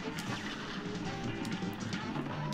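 Shooting in Cuphead on the Terror Train level: rapid, dense firing blended into a loud, continuous wash of game sound with no pauses.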